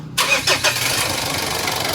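The 2.5-litre diesel engine of a Mitsubishi Pajero Sport GT SUV cranks and catches with a sharp burst, then settles into a steady, rattling idle close by.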